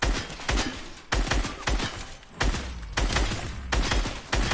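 Gunfire from a SCAR assault rifle in Fortnite, played on console on a training map: about six sharp, loud shots in short bursts spaced roughly half a second to a second apart, with no talking over them.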